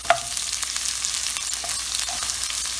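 Curry leaves frying with ginger and garlic in hot oil for a Kerala-style egg roast, a loud continuous crackling sizzle with a few small stir clicks.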